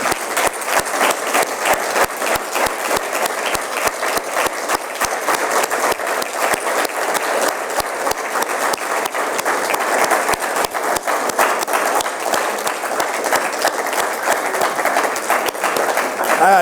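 A large audience claps steadily and densely at a university conference, sustained applause filling the room throughout with faint crowd murmur underneath.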